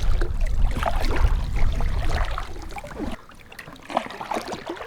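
A pack raft moving through the water along the Alaskan coast near a beach, with close sloshing, low rumbling and small splashes, a brief lull, then more light splashing.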